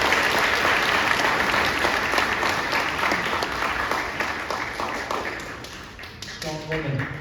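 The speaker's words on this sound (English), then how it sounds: "Give her a round of applause." An audience at a Native youth conference in Fresno applauds, a loud burst of clapping that gradually thins and fades out over several seconds.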